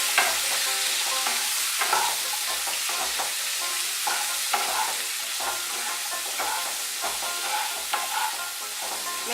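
Beans in a pan are stirred with salt and turmeric powder, repeated scraping strokes of a spoon against the pan over a constant bright sizzle, close and steady with no talk.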